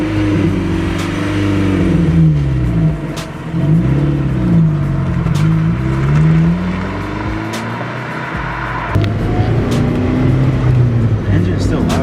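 Kia car engine with its muffler deleted, revving repeatedly in rising and falling sweeps, loud and close, with a steady rough idle between revs while people talk over it.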